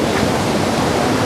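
River water rushes past a roadside riverside in Jamaica as a loud, steady, unbroken roar of flowing water, close and filling the whole moment.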